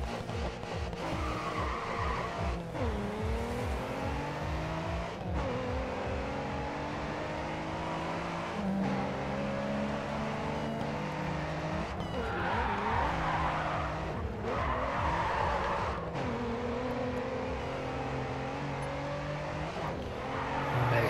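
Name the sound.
racing car tires skidding in video game GRID 2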